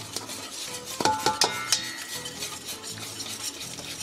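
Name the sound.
whisking melted chocolate and cream in a bowl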